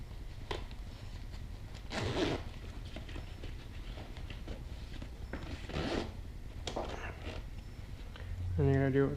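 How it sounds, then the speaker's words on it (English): Zipper on a Wraith Tactical CARR backpack pulled in several short bursts, each a quick rasping zip, with soft handling rustle between them and a brief voice near the end. "Push the zipper in there."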